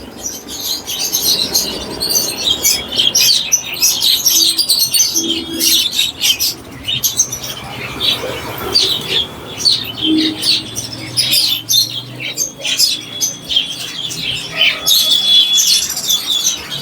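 Many caged birds, including cockatiels, chirp and tweet continuously at a busy bird market, dense high calls layered over a steady rumble of background noise with no clear talk.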